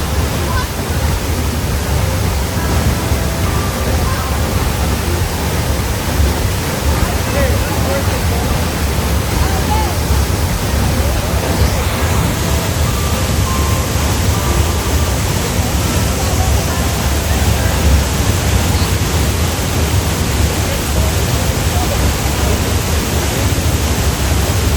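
Tuasan Falls on Camiguin Island, Philippines, pours in a loud, continuous broadband roar of falling water that holds steady throughout, with faint voices of people blurred into the background.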